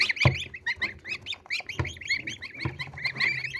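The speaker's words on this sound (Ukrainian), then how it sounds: "Гусята." Young goslings honk and peep in quick, overlapping calls close by, with a few deeper thumps among them and no talk.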